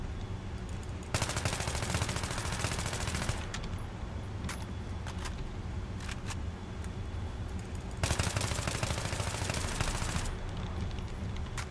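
Sustained automatic AEK-971 rifle fire in Battlefield 3, loud and continuous in long bursts with brief shifts in intensity, no talking over it.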